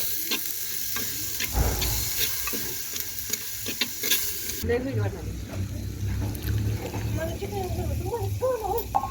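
Tomatoes sauté in a hot pan for chana usal masala, a continuous sizzle with a scrape and stir, and someone talking over it in the second half.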